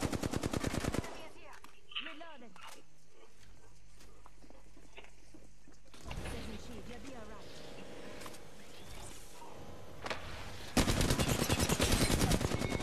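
Automatic gunfire in the video game Apex Legends, with rapid bursts of loud shots at the start and end and quieter scattered game sounds and a voice in between.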